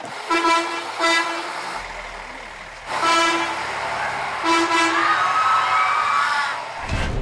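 A coach bus sounds its horn in several loud, blaring honks, short blasts followed by a longer sustained one, over street traffic and crowd noise.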